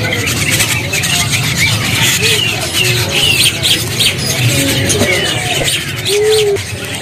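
Adult white starlings (jalak putih) at a kiosk in the Pramuka bird market in Jakarta call with repeated squawks and chirps amid other caged birds and market noise, while people talk nearby.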